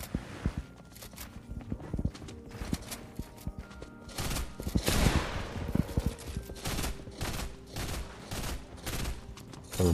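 Dense, rapid gunfire from the Fortnite Mobile game, shots cracking in quick overlapping volleys with steady clattering shots throughout and louder clusters in the middle, no one talking.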